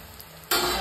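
Buckwheat and potato fritters frying in hot oil, a faint hiss that jumps abruptly into a loud, bright, steady sizzle close by, no talk.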